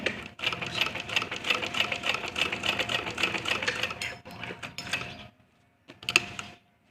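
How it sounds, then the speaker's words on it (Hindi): Sewing machine stitching a kurta at a steady, unhurried pace, a continuous close mechanical whirr with a rapid needle rhythm that stops near the end before a brief final burst. "आपको यहाँ पर मशीन ज़्यादा तेज़ नहीं चलानी है, आराम से मशीन चलाते हुए सिलाई लगाएंगे।"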